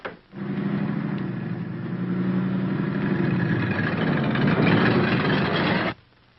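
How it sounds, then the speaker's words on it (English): A lumber truck's engine runs steadily and fairly loud from start to finish, a mid-pitched rumble with a strong low hum, with no talk over it. "You see that lumber truck out there?"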